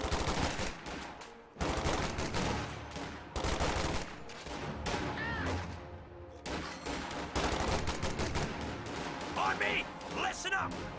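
MG42 machine gun fire in a World War II real-time strategy game, bursts of rapid gunfire and battle noise mixed with other weapons, running under a talking commentator throughout.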